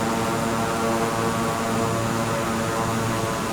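Twin engines of a Piaggio P180 Avanti II at about 30% throttle in Microsoft Flight Simulator, a steady droning hum with a tonal whine, constant and fairly loud, with no talk over it.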